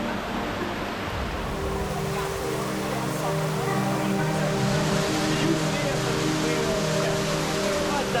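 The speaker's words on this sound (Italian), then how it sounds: "Sono arrivato alla fine di questo ruscello e mi ha condotto proprio al centro della montagna" Steady broadband rush of a mountain stream flowing in remote Icelandic wilderness, continuous and fairly loud, with a low rumble underneath and no clear breaks.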